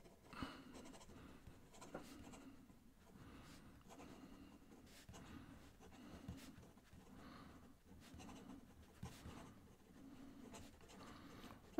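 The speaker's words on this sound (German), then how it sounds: "wir probieren mal schnelles Schreiben und schauen mal, ob der Tintenfluss mitkommt" Fast handwriting with a Hongdian 1837 Magpie fountain pen fitted with an extra fine nib, a steady run of soft scratchy nib strokes on paper in quick bursts, close and quiet, with no talking.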